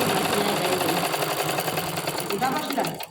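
A sewing machine runs steadily and close, its fast mechanical stitching rhythm holding for about three seconds while stitching palazzo pants with a double pressed seam, then stopping abruptly near the end; a voice talks over it.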